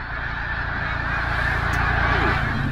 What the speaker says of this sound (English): Where are all these birds coming from?